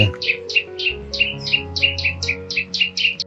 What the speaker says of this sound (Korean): 산속은 새소리가 들려오고